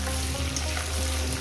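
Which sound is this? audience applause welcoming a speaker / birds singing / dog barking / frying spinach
frying spinach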